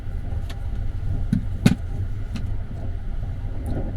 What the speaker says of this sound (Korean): 호주에서 횡단열차 탔을 때처럼 비슷하게 이 소음이랑 떨림이 살짝씩 있습니다